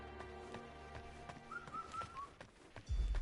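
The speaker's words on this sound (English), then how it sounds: "I hear a cuckoo bird." A cuckoo bird calls faintly in the WUCHANG: Fallen Feathers video game, a few soft whistled notes rising above a low, busy ambient game soundscape.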